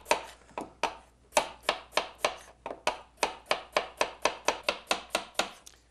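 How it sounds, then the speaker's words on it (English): A knife slices potatoes thin on a cutting board in a fast, regular series of about twenty sharp chops, close and crisp with no talking. "We cut them thin, but not too thin because they go to cook for about 2 hours."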